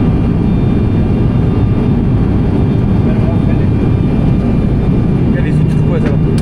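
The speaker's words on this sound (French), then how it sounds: "On atterrit les gars, on va atterrir." A small airplane flying between Tahiti and Moorea comes in to land, its steady, loud engine drone filling the cabin throughout while passengers talk over it.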